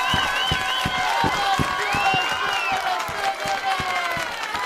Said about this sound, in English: give a little applause, not too much, just a little